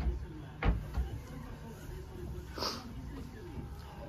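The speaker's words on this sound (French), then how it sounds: "Excusez mon nez qui renifle, là, je suis encore grippée un peu" A few faint nasal sniffs from a woman with the flu stand out against a steady background hum, spaced irregularly and fairly soft.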